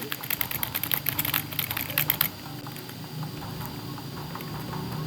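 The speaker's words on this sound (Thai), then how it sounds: "ต้องทำเสียงคีย์บอร์ดให้ดังตลอดเลย" Steady keyboard typing with dense clicks for a couple of seconds, then sparser keystrokes over a quiet background hum.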